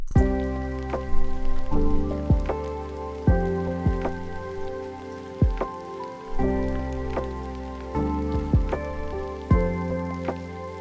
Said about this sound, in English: Just put this rain sound in and let's have a listen